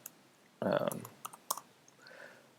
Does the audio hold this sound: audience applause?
no